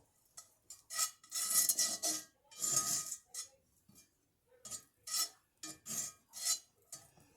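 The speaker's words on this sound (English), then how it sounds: "really buttering up this 10-inch iron skillet" A pat of butter is rubbed around a 10-inch iron skillet, making close, scratchy scraping strokes in uneven bursts with short pauses between them.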